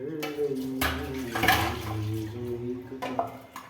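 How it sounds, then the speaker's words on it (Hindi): Water pours from a kettle into a bucket in a steady, splashing stream, close and continuous, with a few louder gushes and slops along the way. "अभी तो और पानी डालूंगा मैं इसके अंदर"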